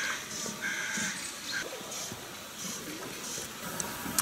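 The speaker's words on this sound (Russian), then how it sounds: "Вороны там на кого-то каркают." Crows caw repeatedly in short harsh calls from some distance beside a river where someone is fly fishing for grayling, over a soft background of water and air.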